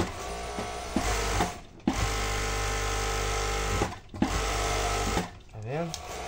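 Sewing machine fitted with a hemming attachment stitching a seam on lingerie or bikini fabric, running in fast steady bursts with two brief pauses, while someone talks over it.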